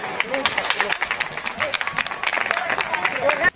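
Audience applause breaks out at a live program organized by a youth group, welcoming a police station officer on stage: a dense, steady crackle of many hands clapping close by, with crowd murmur mixed in, ending abruptly.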